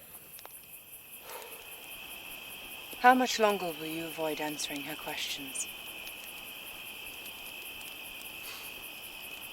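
Crickets chirp in a continuous, steady high trill through a night scene of a medieval fan film, running faint but constant beneath a man's spoken dialogue.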